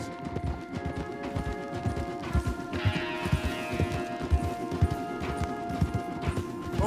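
Horse hooves clip-clop along a path in the video game Red Dead Redemption 2, a steady rhythmic trot with a brief rushing sound in the middle.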